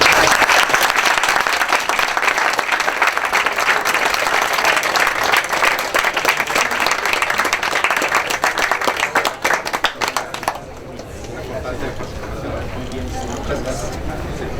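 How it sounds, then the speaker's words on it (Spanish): Loud, dense audience applause at a science talk event, continuing steadily for about ten seconds before dropping to a quieter room murmur. "denle un fuerte aplauso"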